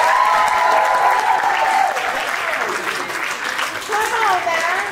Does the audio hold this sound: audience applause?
yes